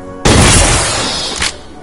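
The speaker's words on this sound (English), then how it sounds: "Just use the trash cannon." A trash cannon fires in a video game with one loud, sudden booming blast that roars for over a second and ends in a short crack before cutting off.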